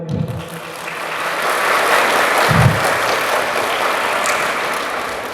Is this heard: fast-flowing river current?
no